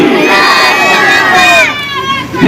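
A large crowd roars back together in answer to a takbir call at a religious gathering. The shout is loud and sustained, then fades after about a second and a half.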